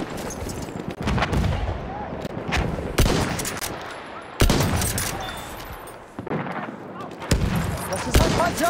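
Bursts of gunfire in the World War I shooter Battlefield 1, several sharp loud volleys spaced a second or two apart, with machine-gun rattles and distant booms between them and voices faintly underneath.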